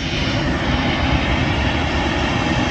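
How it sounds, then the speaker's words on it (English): A Finnair airliner taxiing toward the takeoff runway at Manchester Airport, heard from the runway viewing park as a loud, steady, broadband jet engine roar that holds constant throughout, with no talking. "The Finnair had to go a long way round to the takeoff runway."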